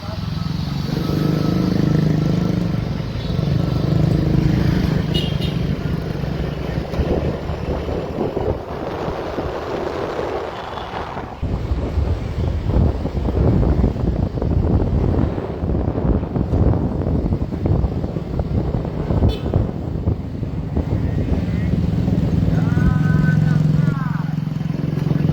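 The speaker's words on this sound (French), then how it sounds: "Je suis en moto" A Grab motorcycle taxi carries a rider through Jakarta traffic, its engine droning loudly and continuously under heavy wind buffeting on the microphone, while someone talks over the ride.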